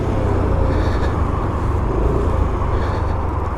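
A Yamaha NMAX scooter rides along with steady engine drone and road rumble. The sound stays loud and constant throughout, with no voices over it.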